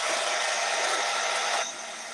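A hair dryer blows on a craft project, a loud steady broadband whoosh held close that drops to a lower, softer rush near the end with no talking.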